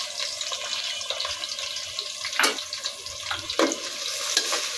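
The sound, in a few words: chopped onion frying in oil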